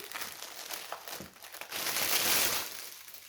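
Transparent plastic wrapping on a diamond painting kit crinkling and rustling close up, in irregular bursts that swell louder toward the end.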